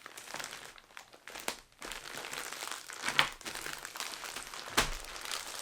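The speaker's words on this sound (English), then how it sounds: "we just fold the bag over like this, and then you pull the adhesive strip off right here" Plastic poly shipping bag being folded over and sealed with its adhesive strip, soft crinkling and rustling with a few sharper crackles, close and fairly quiet.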